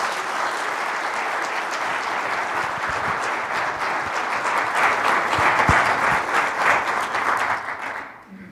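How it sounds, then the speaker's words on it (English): An audience applauds a speaker at a presentation on spirits dancing, with dense, sustained clapping that swells toward the middle and fades out at the end. "let's give a little round of applause for Travis Novitsky"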